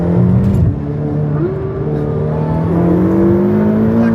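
A supercar accelerating at full throttle during a roll race in Dubai, its engine roaring loud and close with rising pitch and a brief shift dip, continuous and alone.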